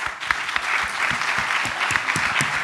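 An audience at the West Web Festival opening applauds festival sponsors and supporters with dense, even clapping that stays at a constant level, with some sharp individual claps standing out.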